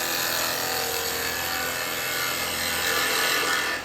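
A woodturning gouge makes a clean-up cut on a spinning piece of wood on a lathe, giving a steady, loud, broadband shaving hiss that runs unbroken for the whole stretch and swells slightly near the end.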